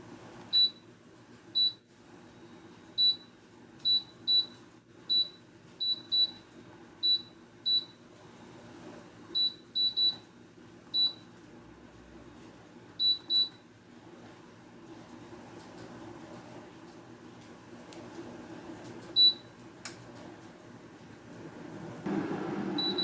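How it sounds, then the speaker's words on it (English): An air fryer being set to preheat, a series of short high electronic beeps, mostly in quick clusters during the first thirteen seconds with one more later, over a faint low hum. "we need to preheat our air fryer for 380 degrees for 12 minutes"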